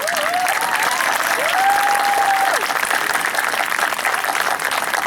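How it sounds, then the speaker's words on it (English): Audience applause for a graduating class at a promotion ceremony: dense, steady clapping that fills the whole stretch, with a bright whistle cutting through near the start. "And one more time, round of applause for the class."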